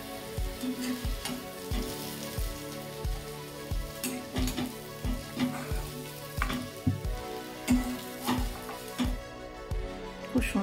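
Sliced onions deep-fry in oil into crisp birista for Nizami dum chicken, a continuous close sizzle broken by regular scraping taps of a stirring spoon against the pan.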